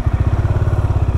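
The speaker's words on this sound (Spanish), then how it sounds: "Vamos a encender la motico." A Bajaj Dominar 400 motorcycle engine idles close by with a steady, throbbing low putter, evenly pulsing and loud.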